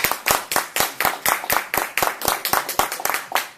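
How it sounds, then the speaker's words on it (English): A single pair of hands claps in a steady, even rhythm, about four claps per second, fairly close and alone with no voices, welcoming a speaker. "let's bring forth David Garessa with a round of applause"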